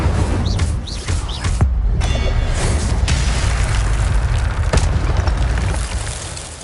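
Incendio fire spell cast in the Hogwarts Legacy video game, a dense burst of fiery crackle and whooshing boom that stays loud throughout, with sharp pops and chirping effects scattered over a roaring bed.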